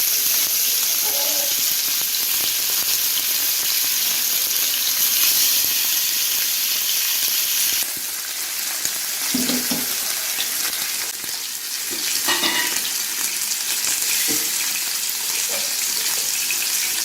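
Ghee hits hot oil in a pan while cooking a fish fry, a steady close sizzling hiss with brief bubbling pops and a few small clinks.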